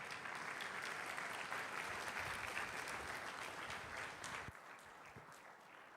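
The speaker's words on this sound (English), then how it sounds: "Oh, I like the clap" An audience at a talk on intrapreneurship claps in continuous, dense applause that holds steady for several seconds, then thins and fades out at the end.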